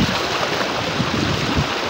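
A strong, fast river current at a river crossing, heard as a loud, continuous rushing wash of water mixed with wind buffeting the microphone.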